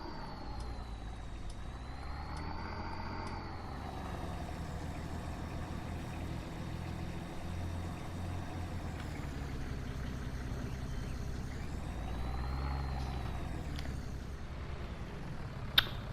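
A farm vehicle driving along a road in the farming game A Farmer's Life, a continuous engine drone rising and falling in pitch as it accelerates and shifts, steady and close with no talk.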